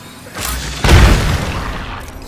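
A grenade goes off in a video game: a single heavy, close boom partway through with a rumbling tail, following a stretch of lighter background noise.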